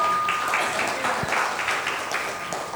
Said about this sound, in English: A big round of applause for spiritual Sunil.